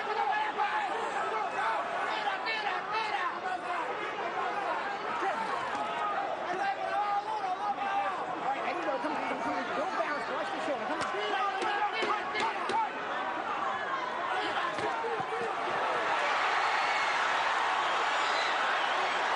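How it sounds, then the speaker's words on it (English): Arena crowd at the Oscar De La Hoya vs John John Molina boxing fight, a steady roar of chatter and cheering that swells louder toward the end, with a commentator's voice over it. "You can just hear the crowd just getting into this fight right now"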